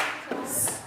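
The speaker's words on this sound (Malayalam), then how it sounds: "എല്ലാവരും ഒന്ന് ക്ലാപ്പ് അടിക്കും" A group of children clap together in a short burst of quick, close hand claps in a classroom setting, fading within a second.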